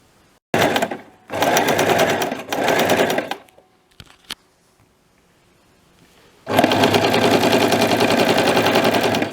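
A Toyota Jeans sewing machine stitches velvet fabric in loud, close bursts: two short runs, a pause with a couple of clicks, then a long continuous run of rapid mechanical stitching.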